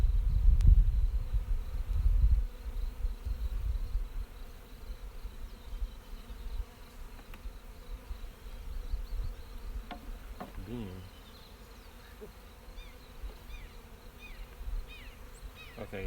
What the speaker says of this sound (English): that hive just starts going insane when you put the smoke in there